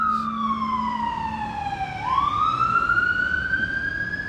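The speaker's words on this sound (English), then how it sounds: "All these cop cars and ambulance keep going by." Sirens of police cars and ambulances passing on a city street in Philadelphia, one loud wailing siren sweeping down and then rising again over steady traffic rumble, with no talking.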